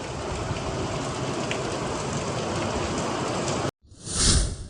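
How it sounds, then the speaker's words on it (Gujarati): Heavy night rain in Surat hisses steadily for several seconds, then cuts off abruptly and a brief, different swelling noise follows. "જોરદાર વરસાદ આવે છે"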